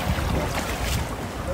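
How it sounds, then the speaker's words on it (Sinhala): A boat travels over the water at Coromandel, New Zealand, its steady hull and engine wash blending with gusty wind noise across the whole moment, close and continuous. "ඉතින් ඔන්න අපි නැග්ගා බෝට්ටුවට"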